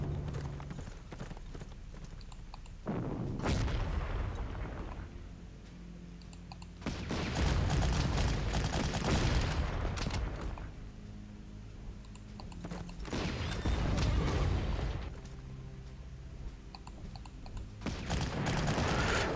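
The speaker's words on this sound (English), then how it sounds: "Start bombing that paratrooper." Bombing and artillery fire in the World War II strategy game Panzer Corps: loud, rumbling bursts of explosions and rattling fire come in repeated waves of several seconds, separated by brief quieter gaps, with no talking.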